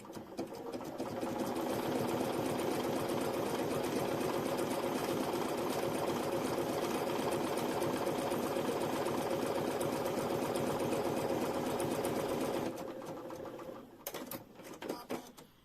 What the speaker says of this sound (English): another round of satin stitch here really quickly